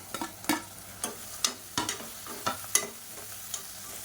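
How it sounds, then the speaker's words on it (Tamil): Chopped tomatoes sauté in a pan for chicken biryani, with a steady sizzle under repeated sharp scrapes of a spoon stirring, close and fairly loud, no talking. "இப்போ தக்காளி எல்லாமே நல்லா வதங்கிடுச்சு"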